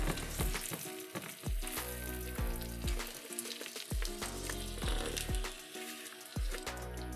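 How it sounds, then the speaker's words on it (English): Vegan kimchi jeon batter sizzles and crackles in an oiled pan, a constant close frying hiss broken by repeated dull knocks and scrapes at a steady pace. "the sizzling sound reminds them of the sound of rain"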